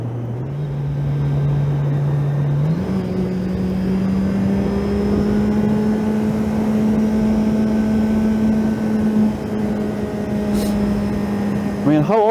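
A 650 motorcycle engine runs at high revs, its steady drone stepping up in pitch as it shifts and climbs, then holding a sustained high whine, with wind noise under it.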